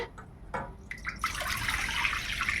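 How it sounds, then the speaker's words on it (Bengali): Water pours into a wok set on a gas stove, starting faintly and swelling into a steady close rush of splashing that fills the rest of the moment, heard alone. "কড়াই জল দিলাম।"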